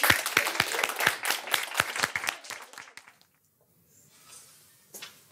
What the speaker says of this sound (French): je vous demande d'applaudir et d'encourager Junkie